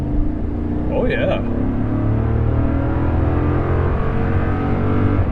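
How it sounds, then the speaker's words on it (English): A Toyota Tundra SR5 pickup truck accelerates with a loud, continuous low engine rumble heard from inside the cab, and a voice briefly speaks early on. "All right, here we go. Going to test acceleration."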